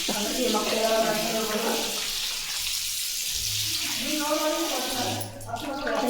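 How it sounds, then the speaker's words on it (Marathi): Water sloshes and splashes as potatoes are rinsed by hand, with a person talking over the washing. "आता मी बटाटे स्वच्छ धुवून घेते"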